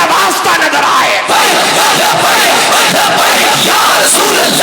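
A large crowd at a religious gathering in Sheikhupura loudly chants devotional slogans such as praise of the Prophet, a dense, continuous roar of many voices filling the space without pause.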